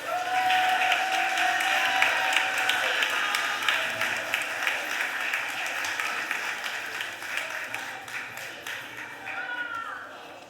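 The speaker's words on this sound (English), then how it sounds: "Let's give them a round of applause." Applause from a council chamber audience as visiting schoolchildren from a charter school stand at a Philadelphia City Council meeting, steady and fairly loud, thinning out toward the end with a murmur of voices underneath.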